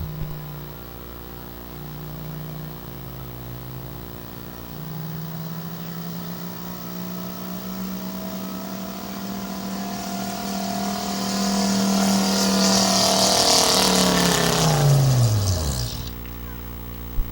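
Diesel pulling truck engine at a Fonda, New York tractor-pulling event, droning steadily then rising hard in a long rev as it lugs down the track before cutting off abruptly near the end, loud and close, with an announcer faintly beneath.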